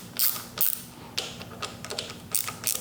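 Bolts being tightened on a motorcycle clutch lever during an RSC lever install: a close, quiet run of sharp metallic clicks and ratchet-like ticks in short irregular bursts, with no talking.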